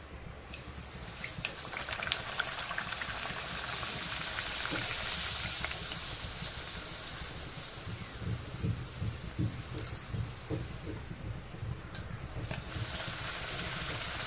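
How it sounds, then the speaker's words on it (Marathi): Puris deep-frying in hot oil, a steady close hiss and dense bubbling sizzle that runs continuously throughout, with no one talking. "आता इकडे तेल तापलेलं आहे, आता आपण पुऱ्या तळून घेऊया।"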